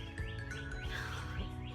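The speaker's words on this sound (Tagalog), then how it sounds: "Ang ingay ng ibon dito" Noisy birds chirp close by in a repeated run of short, bright, rising calls over a low background hum, with no talking.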